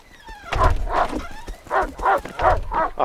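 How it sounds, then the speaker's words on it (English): A dog barks in the Rust survival video game, a string of about six gruff, fairly loud barks in an uneven rhythm, close by with no talk. "Oh, who brought the fucking dog with them?"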